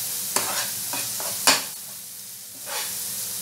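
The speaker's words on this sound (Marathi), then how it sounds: "हे छान परतून घ्यायचं आहे." Chopped vegetables for green pulao sautéed and stirred in a hot pan: a steady sizzle broken by sharp spoon scrapes and clacks, close and unaccompanied by talk.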